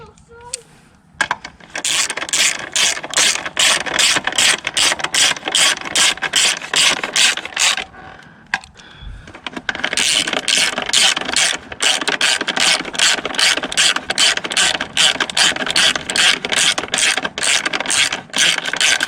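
Ratchet clicking rapidly while removing 10mm screws that hold plastic on a 2018 XMR1000 Renegade motorcycle, loud close bursts of pawl clicks broken by short pauses.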